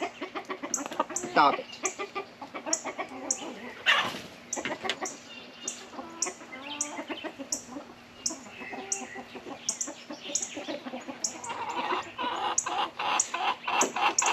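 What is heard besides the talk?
rooster clucking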